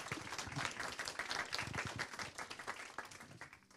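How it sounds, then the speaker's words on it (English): Seminar attendees clap for a presenter in a room, a moderately faint round of scattered, distinct hand claps that thins out and fades toward the end. "Let's give him a round of applause"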